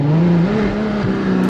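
A Ferrari 812 Superfast engine screams at high speed, one sustained loud rising-and-falling howl that cuts off abruptly at the end.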